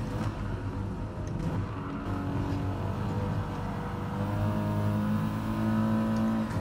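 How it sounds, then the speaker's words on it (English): A race car in GT Royale pulls away with a steady, droning engine note that slowly climbs in pitch, sustained and fairly close without any talk. "It's a lovely car, Mick, but the pull-away is a problem."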